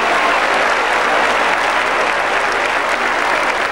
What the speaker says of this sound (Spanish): Aplaudan fuerte, que va por ustedes.